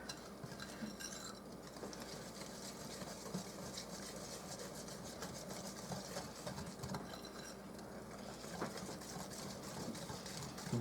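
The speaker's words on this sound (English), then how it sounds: "Now we're just going to whisk this all together." A whisk scrapes and rubs steadily through flourless chocolate cake batter in a bowl, faint and continuous with soft rhythmic strokes and occasional light clinks, no talking.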